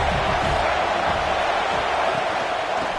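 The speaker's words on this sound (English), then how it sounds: "This crowd bringing the energy and noise early." Steady broadband stadium crowd roar from a College Football 25 video game, a continuous loud wash of noise with faint cheering throughout.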